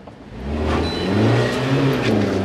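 Manual car engine rising in revs as the accelerator is pressed during clutch control at the biting point, a smooth mid-pitched hum swelling over two and a half seconds, close and steady with no talk.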